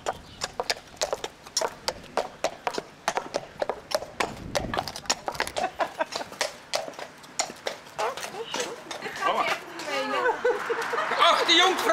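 A horse's hooves clip-clop in a steady, brisk rhythm on a hard surface at an outdoor festival, with people talking over and around the hoofbeats.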